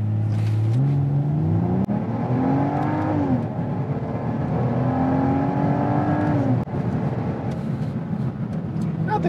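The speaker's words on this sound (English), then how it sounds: "Not the quickest accelerating vehicle I've driven, but still no slouch by any means." A 2016 Volvo V60 T6 Polestar wagon accelerating hard from inside the cabin, its engine note climbing steadily through the gears with brief dips at shifts, loud and continuous with a steady road roar underneath.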